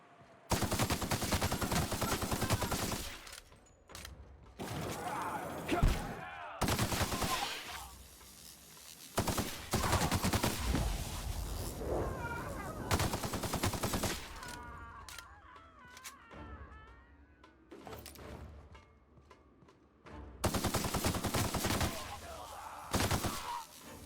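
Bursts of enemy gunfire in The Outer Worlds video game, loud rapid automatic volleys broken by short pauses across the stretch, with occasional game voices and effects between the shots.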